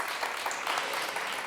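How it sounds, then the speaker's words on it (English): A brief burst of audience applause at a grassroots community event, an even wash of clapping from many people lasting just over a second. "I think that deserves a round of applause"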